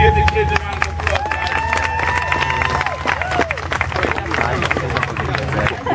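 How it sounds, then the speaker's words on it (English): An outdoor street crowd in New York City claps for children after a performance, scattered applause and chatter mixing with shouts and a passing siren-like wail, moderately loud and busy throughout. "Give the kids a round of applause."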